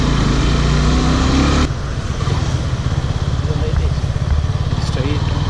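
A Suzuki Gixxer SF 250 motorcycle engine runs loud and close, a high rasping drone that shifts abruptly partway through into a lower, rapidly pulsing note under rushing wind, with a rider's voice mixed in.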